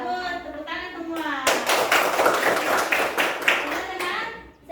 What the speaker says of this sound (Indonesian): Bagus, tepuk tangan semua.